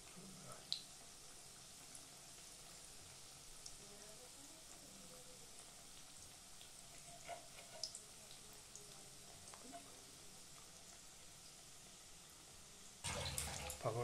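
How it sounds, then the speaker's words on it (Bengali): Chicken pakoras fry in hot oil with a soft, steady sizzle that runs throughout, then swells into a louder burst of crackling near the end. "ধীরে ধীরে পকোড়াগুলো ভাজা হচ্ছে, খুব সুন্দর হচ্ছে।"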